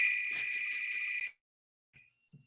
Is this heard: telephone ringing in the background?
yes